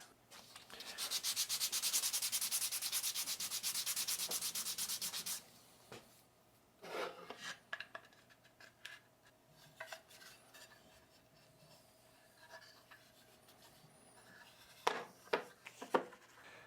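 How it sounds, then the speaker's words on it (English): Hand sanding a mahogany patch piece for a drawer to strip the old finish, a steady rasping scrape for about five seconds, followed by scattered light knocks and handling taps of the wood. "So I did sand it to take off the finish here where it will be glued in underneath."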